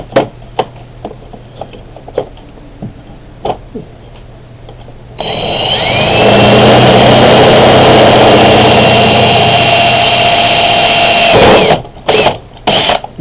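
A power drill boring a pilot hole through a hard lid, starting with light clicks and handling noise, then a loud, sustained whining drone for about six seconds before stopping with a few short bursts.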